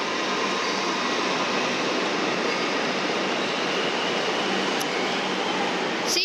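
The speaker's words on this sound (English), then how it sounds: "There's a Flemington shuttle going over there" A Metro Melbourne Flemington shuttle train passes at a distance in a busy station, heard as a steady broadband rumble and hiss that holds level throughout, with a brief squeal near the end.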